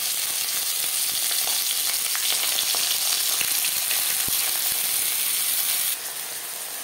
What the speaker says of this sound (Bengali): পাতুরি ভাজবো লো টু মিডিয়াম ফ্লেমে।